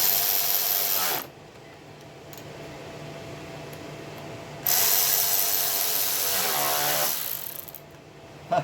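A ratchet tightens bolts on a 1996 17 hp Briggs opposed-twin engine while the engine idles steadily. The ratcheting comes in two sustained, loud clicking stretches over the constant engine drone.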